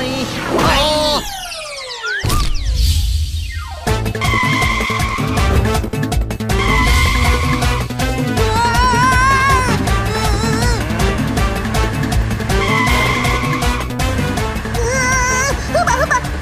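Skidding tires and revving cars in a cartoon car chase, loud squeals and engine whine running continuously over a busy music track for the whole stretch.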